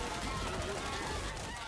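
Geese honk and squawk in a roguelike game, a busy layered cluster of calls over dense game sound that keeps going without a break.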